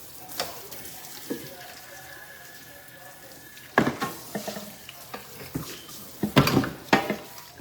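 Dishes washed up under a running tap while prepping a meat dinner: steady water flow with clattering pots, cutlery and clinks, sparse at first then busier, close and alone without talk.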